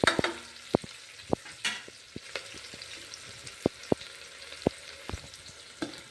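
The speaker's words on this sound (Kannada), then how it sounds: "ಒಂದು 4 ಹಸಿ ಮೆಣಸಿಕಾಯಿ ಹಾಕಿ ಒಂದೊಂದಾಗಿ ಫ್ರೈ ಮಾಡ್ಕೋಣ." Green chillies fry in hot oil one at a time, giving a soft steady sizzle broken by sharp clicks and pops of a spoon against the pan, close and without voices.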